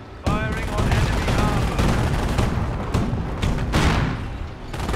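Gunfire and heavy weapon fire in the World War II strategy game Company of Heroes, units firing on enemy armor; dense, continuous bursts and booms fill the whole stretch at close, loud level, with a voice speaking over the battle.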